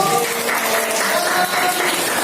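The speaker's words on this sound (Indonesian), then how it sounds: "Tepuk tangan untuk kelompok 1" Students clapping for a group in a classroom, a steady, fairly loud patter of many hands that continues without pause.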